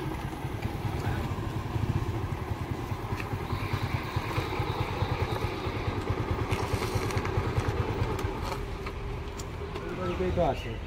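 A motorcycle engine idles steadily close by, a continuous low, pulsing chug that holds at an even level for about eleven seconds.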